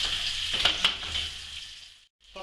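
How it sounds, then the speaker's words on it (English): Bacon fries in a pan alongside cabbage during venison cooking, giving a steady bright sizzle with a few louder crackles and pops. The sizzle cuts out briefly near the end and then resumes. "Is there anything finer than the smell of bacon frying?"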